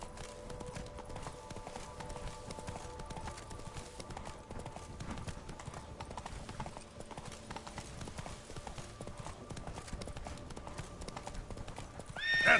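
Steady rapid hoofbeats of a horse galloping in the video game The Witcher 3, continuous and fairly quiet throughout, with a brief whinny-like burst at the end.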